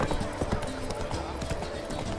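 Roach, Geralt's horse in The Witcher 3, trots through Beauclair. Close, steady clip-clop hoofbeats fall in a quick, regular rhythm.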